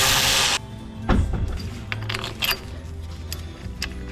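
A wrench working the rear control arm bolt on a BMW E92 335xi: a sharp metallic clank and ratcheting, scattered tool clicks and taps, close and fairly loud, no voices.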